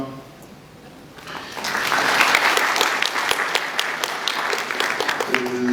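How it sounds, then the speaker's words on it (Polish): Audience applause at a university academic year inauguration ceremony, starting quietly then swelling into sustained, dense clapping from a large hall crowd that continues to the end. "Bardzo dziękuję za oklaski"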